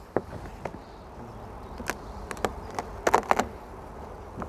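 Honey bees buzz around calm hives during a spring inspection, a soft steady drone with sharp individual bees zipping close past now and then, quiet and with no talk.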